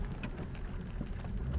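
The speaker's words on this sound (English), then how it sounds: "Yeah, it's raining." Steady rain falls outside a vehicle, a dense continuous wash of patter with low rumbling underneath, close and even throughout with no talk.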